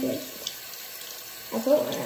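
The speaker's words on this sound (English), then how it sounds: "I put water on my hand." Water runs from a sink tap onto a hand, a soft splashing that starts, fades, then returns more strongly after a short pause; close and fairly quiet.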